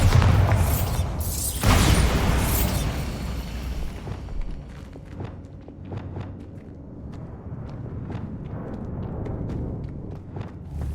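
Confringo and Bombarda spell explosions in the Hogwarts Legacy video game, a loud cluster of booming blasts over the first few seconds that gives way to quieter, scattered crackling impacts and steps.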